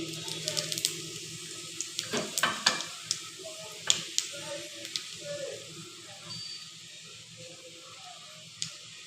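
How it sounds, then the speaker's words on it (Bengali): White cumin seeds tossed into hot oil as a tempering, over lightly fried eggplant, crackle and sizzle with sharp irregular pops at close range, then settle into a softer continuous hiss. "সাদা জিরা ফোড়ন দিয়ে দিচ্ছি"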